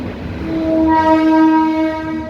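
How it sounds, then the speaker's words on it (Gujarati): A passing train sounds its loud horn close by, a sustained harmonic blare over the rumble of the rail cars, no voices. "ટ્રેન આવતી હોય ને કઈ મજા આવે જોવાની"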